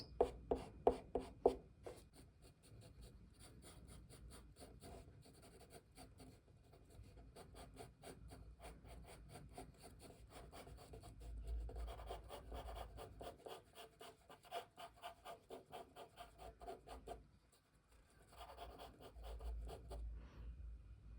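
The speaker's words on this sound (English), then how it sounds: "I need to erase some lines." An eraser scrubbing out pencil lines on paper in quick rhythmic back-and-forth strokes, close and soft, coming in bursts with short pauses and no voices.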